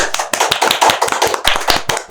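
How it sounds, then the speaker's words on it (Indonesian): A committee bursts into brief, close hand clapping, a quick run of sharp, irregular claps lasting about two seconds. "Tepuk tangan dulu dong panitia"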